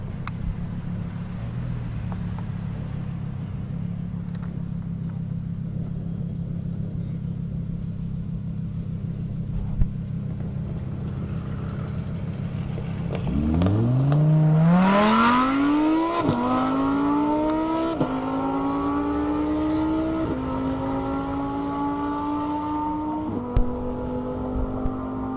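A Toyota Supra and a Lamborghini launch in a half-mile airport drag race, engines starting as a low idle rumble, then roaring loudly with rising revs and several gear shifts, close and powerful.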